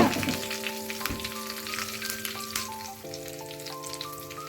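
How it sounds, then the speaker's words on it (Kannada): Curry leaves crackle and sizzle in hot ghee as a tempering for raw mango chutney. The dense, close spitting hiss continues throughout over steady background music. "ಈಗ ಕರ್ಬೇವಿನ ಸೊಪ್ಪು ಕೂಡ ಹಾಕೊಳ್ತಾ ಇದೀನಿ ಒಗ್ಗರಣೆಗೆ"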